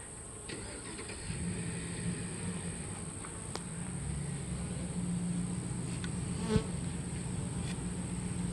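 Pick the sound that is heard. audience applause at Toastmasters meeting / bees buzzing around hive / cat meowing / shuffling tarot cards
bees buzzing around hive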